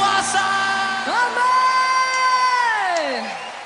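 Worshippers at a church service cheer and yell in a loud, sustained crowd roar, with voices swooping up into a long held whoop before tailing off.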